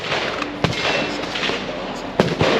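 At a silencer showcase shooting range, two sharp suppressed gunshots go off about a second and a half apart. Each is a muffled crack over a steady outdoor background, with no clear speech.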